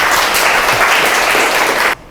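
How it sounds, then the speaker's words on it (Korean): Audience applause at a Korean public science lecture welcoming a physics professor, loud dense clapping filling the hall for about two seconds before cutting off abruptly. "그럼 박수로 한번 들어볼까요?"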